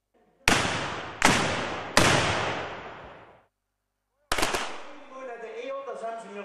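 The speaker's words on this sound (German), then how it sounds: "um einige Salutschüsse aus ihren Kanonen und Flinten abzufeuern" A historic shooting society in Thalheim, Erzgebirge fires ceremonial salute shots from cannons and rifles: three loud booming reports in quick succession with long echoing decays, a brief silence, then a fourth blast followed by voices.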